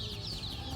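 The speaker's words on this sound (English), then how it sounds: "We got chickens." Newly bought chicks, including a mixed silkie, cheep and cluck softly in a suburban backyard in a brief, close burst of high peeping over a low background hum.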